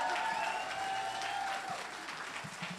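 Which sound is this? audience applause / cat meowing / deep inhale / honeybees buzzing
audience applause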